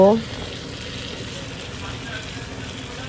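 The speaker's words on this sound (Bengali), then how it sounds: "এবার ভালো করে একটু কষিয়ে, ভালো করে নাড়াচাড়া করে কষিয়ে নিয়ে একটু জিরে গুঁড়ো দেব" Masala frying and being stirred in a pan, a steady, fairly loud hiss of sizzling oil that runs on evenly after a short opening blip, with no distinct strokes of the spoon.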